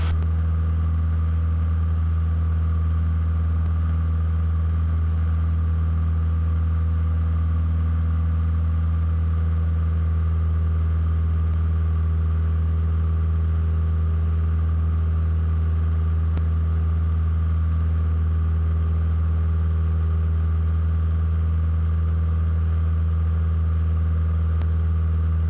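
A Cessna 172 piston aircraft engine runs steadily for the whole stretch, a loud continuous low drone with a constant pitch, heard close up from inside the cockpit with no talking.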